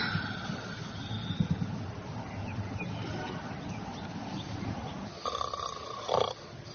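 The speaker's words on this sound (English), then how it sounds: "you're snoring" Snoring from a sleeping boy in a family comedy scene, a low rasping breath repeating steadily through the background, with soft household noise and a brief louder burst near the end.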